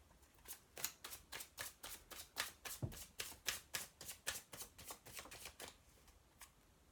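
Tarot cards riffle and snap in a quick, steady rhythm of about a dozen soft, close shuffling strokes, faint and alone without voices.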